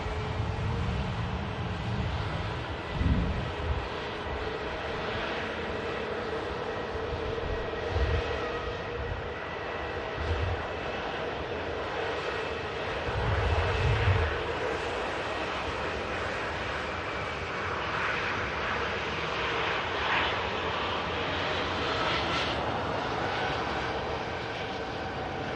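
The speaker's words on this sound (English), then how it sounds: "Ryanair UK, taxiing in." Ryanair UK airliner taxiing in at Manchester Airport, a steady, continuous jet engine roar heard from a distance with a broad hiss that holds level throughout, with a few low rumbling swells and no talking.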